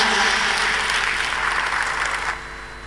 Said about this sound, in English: Can I have another round of applause for the fabulous, fabulous Avalon?